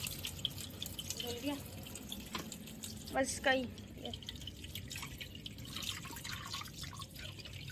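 Water running and dripping as a plastic vegetable chopper is rinsed at a kitchen sink, with a few brief splashes and taps of plastic. Someone talks intermittently over the steady flow.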